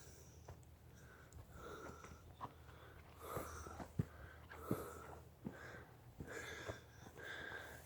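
Heavy, labored breathing after exercise on a hiking nature trail: repeated wheezy inhales and sniffing exhales up close, in an uneven rhythm, with no speech.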